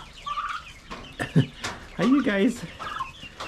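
Pullets and cockerels on a homestead cluck and squawk close by in irregular bursts, with turkeys also kept nearby, and a person speaks briefly over the birds.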